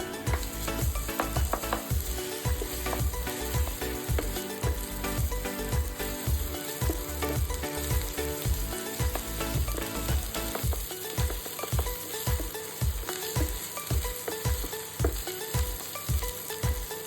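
Onions with ginger-garlic paste fry steadily in a pan for a prawn curry, a dense continuous sizzle with a rapid rhythmic pulse of stirring strokes throughout, close and loud with no talk.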